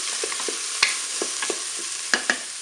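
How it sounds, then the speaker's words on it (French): Food is stirred in a Cookeo pot while courgette mixture with paprika sizzles steadily underneath, close and fairly loud, with several sharp utensil knocks against the pot. "Je mélange."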